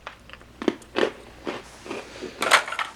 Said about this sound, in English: They're very crunchy, but also very light, with a very mild hint of sweetness to them.